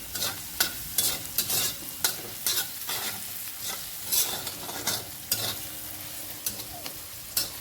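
Garlic and green chillies stir-fried in oil on an iron tava, giving a continuous close sizzle punctuated by repeated sharp spatula scrapes and taps at an uneven rhythm, no voices.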